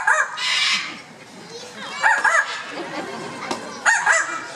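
An Amazon parrot imitates a dog's growl and bark in a few short, rough bursts, close by, with a person speaking between the attempts.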